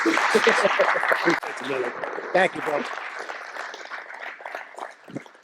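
Crowd applause at a baseball coaching convention meeting, a burst of clapping mixed with talking voices that thins and fades into murmur toward the end.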